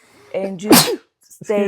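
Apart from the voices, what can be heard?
sneeze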